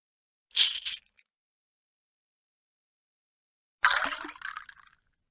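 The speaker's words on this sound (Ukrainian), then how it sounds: "У третю наливаємо таку саму кількість сульфатної кислоти." Sulfuric acid poured into a test tube in a chemistry lab, two short splashy bursts of liquid pouring separated by silence.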